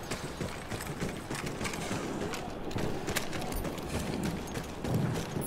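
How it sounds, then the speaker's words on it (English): Horse hooves clip-clop steadily through a Battlefield 1 game scene, a continuous rhythmic patter mixed with ambient game noise and no talk. "Ah, a horse after a long time."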